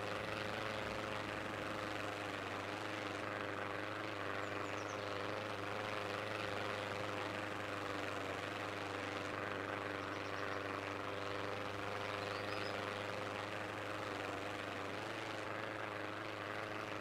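A video game airplane's engine drones steadily throughout, a constant low propeller hum with layered tones and no breaks, moderately loud and alone without any talking.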